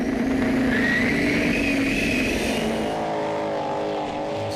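Pulling tractor engine at full throttle on a Danish Eurocup tractor pulling track, a loud sustained roar with a rising whine that eases off toward the end.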